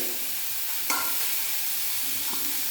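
Hot oil splutters and sizzles while lemon pickle spices fry, a steady close hiss with a sharp crackle burst partway through and a smaller pop later.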